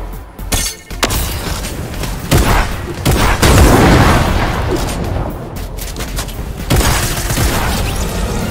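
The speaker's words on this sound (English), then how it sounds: "I'm hearing some big boy shots over here" Heavy booms and bursts of gunfire from a battle royale video game, loud and dense throughout, with sharp blasts standing out over a constant rumbling din.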